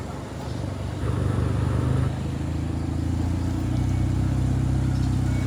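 Cars, tricycles and motorcycles moving slowly through a flooded road in Barangay Libas, Banga, a continuous low engine drone with a passing vehicle swelling nearer partway through, over steady background noise.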